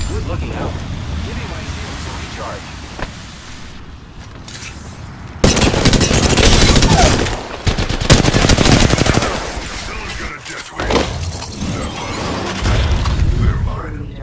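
Heavy gunfire in the battle royale shooter Apex Legends, rapid automatic bursts and single shots rising sharply and loud midway, with voices talking over the fighting.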